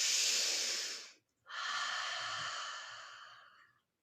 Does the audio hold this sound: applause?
no